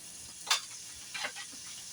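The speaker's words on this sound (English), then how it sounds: "Now I'm going to add my onions." Onions going into a hot pan for cashew chicken, giving a soft steady sizzle with a few brief louder crackling bursts as they hit the oil.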